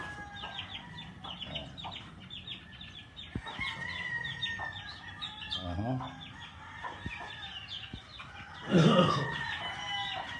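Chickens on a large poultry farm in Lipa, Philippines cluck and crow steadily near and far, with a louder burst of fowl calls near the end and faint talk in the background.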